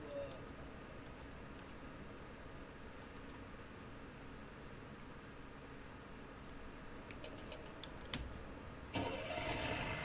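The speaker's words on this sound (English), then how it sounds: "start the engine" A vehicle engine starts up in the shooter game Battlebit Remastered, heard as a faint, steady mechanical whir under a low noise bed, with a louder burst near the end.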